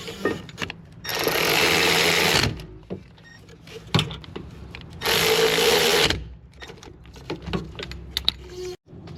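A power tool drives 17mm brake caliper bolts on a Toyota Camry's rear brakes in two loud, sustained whirring bursts, with clanks and handling noises of the parts in between.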